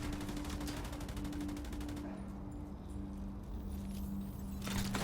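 Rapid automatic gunfire from an assault rifle in The Division 2 multiplayer combat, a dense run of quick shots in the first two seconds, then quieter scattered game noise with a steady hum underneath.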